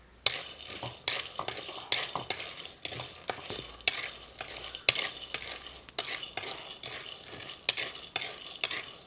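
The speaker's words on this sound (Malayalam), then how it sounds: "ഇത് വറുത്ത കപ്പലണ്ടിയാണ്, എന്നാലും ഒന്ന് ജസ്റ്റ് ഒന്ന് നമുക്ക് ചൂടാക്കി എടുക്കാം." Already-roasted peanuts are reheated in a pan and stirred briskly, giving a regular rhythm of dry rattling scrapes over a light sizzle, close and clear with no talking.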